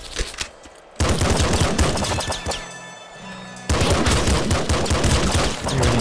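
A grenade launcher fires explosives in the Nuclear Throne video game: loud, rapid, crackling bursts of shots and blasts, with a brief quieter pause in the middle and no talking.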